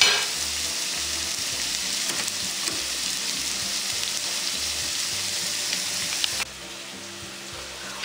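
Food fries in a pan at breakfast, a continuous close sizzle with intermittent stirring scrapes, loud and steady before dropping to a quieter level near the end.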